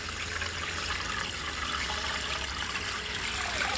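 Water runs steadily from a tap while a paint roller is rinsed, a continuous hissing splash at moderate level with a low rumble beneath and no voices.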